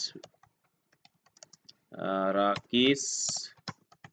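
Student names are typed on a computer keyboard during an MS Word and Excel charts lesson: light, scattered key clicks, with a short burst of nearby talking in the middle.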